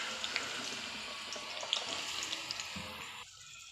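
Potatoes tipped into a pan of frying chillies, giving a steady, close, bright sizzle with scattered crackles. The sizzle carries on evenly before dropping off abruptly near the end.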